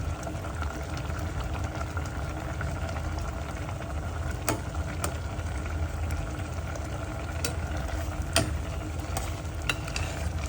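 Soft scraping and clinking of a utensil stirring egg through food in a pot, with a low bubbling simmer underneath and occasional sharp taps.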